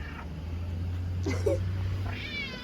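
A cat meows a couple of times close by, short rising cries over a steady low hum in an indoor room.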